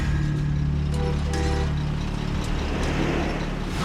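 A truck convoy hauls an oil rig derrick and tons of steel across the West, a droning low engine hum with a few faint knocks and clatters on top.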